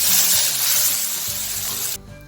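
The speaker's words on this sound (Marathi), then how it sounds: "टोमॅटो टाकून घेऊया। दोन मिनिट आपण परतून घेऊया" Tomatoes sautéed in a pan for chhole give a close, steady hiss and sizzle that cuts off abruptly near the end, with no voice over it.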